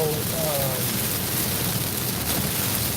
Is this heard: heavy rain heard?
yes